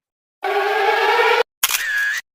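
A lyrebird imitates a camera shutter: a sustained buzzing whir, a brief pause, then a second clicking, whirring burst. Close and clear against silence.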